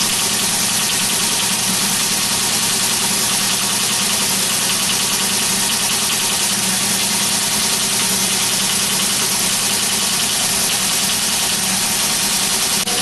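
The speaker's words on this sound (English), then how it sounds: "Focal is calculating and printing the results in tabular format" A PDP-8/a computer prints FOCAL results in tabular format, producing a constant dense mechanical clatter and whir at steady loudness throughout, with no voices.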